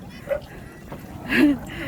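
A few barks and yips from thin native dogs, moderately close, over background chatter and rustling outdoor noise during a sunrise jog.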